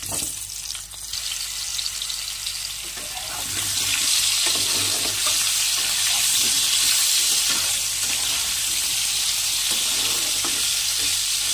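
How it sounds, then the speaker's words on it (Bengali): Large potato pieces fry in oil in a pan for a jackfruit and prawn curry, a loud, dense sizzle that swells after a few seconds and holds steady with occasional stirring scrapes, with no voices. "দিয়ে এখন বড় বড় পিস করে যে আলুগুলো কেটে রেখেছিলাম সেগুলো দিয়ে ভালো করে লাল লাল করে ভেজে নিতে হবে।"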